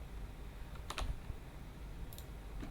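Computer keyboard keys being pressed, including the enter key: a few sparse, close clicks, a double tap near the start and another later, over a low room hum with no speech.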